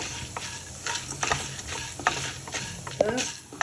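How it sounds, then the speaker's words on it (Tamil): Chana dal and urad dal roasting in a pan for a ridge gourd skin thuvaiyal, a steady dry crackle with repeated scraping stirs and a few sharper clinks of the spoon against the pan, close and moderately loud. "கடலைப்பருப்பு, இது ரெண்டையும் போட்டு அதை நல்லா வறுத்துக்கலாம்."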